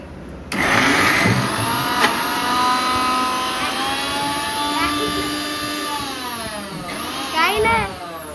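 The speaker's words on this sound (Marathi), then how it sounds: "ते पुन्हा एकदा मिक्सरला लावायचं आहे" A mixer grinder starts abruptly and whirs loudly and steadily grinding grated coconut, its motor pitch shifting slightly as it grinds, with a brief surge near the end.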